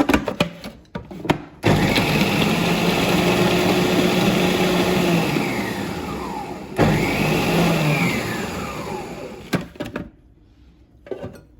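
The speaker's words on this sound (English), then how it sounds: "In the food processor, I'm going to add the fresh coriander and the green chilies." A food processor grinds fresh coriander and green chilies in two long, loud, steady whirring runs with a motor hum that rises in pitch, separated by a brief pause and followed by clatter.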